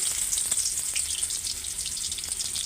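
Chopped onions sizzle steadily in hot oil, a dense crackling hiss with small pops, being fried as a tempering for a chicken curry, with no voices.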